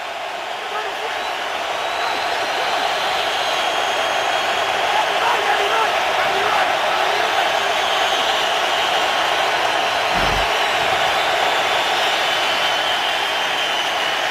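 A roaring NFL stadium crowd at a Redskins–Cardinals game in Arizona, a dense, steady wall of cheering and noise on third down, loud and unbroken throughout.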